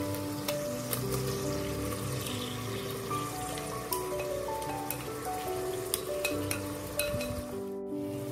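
Marinated paneer sautéing in a pan with tomato masala, a steady crackling sizzle like light rain, with small clinks of a utensil against the pan throughout.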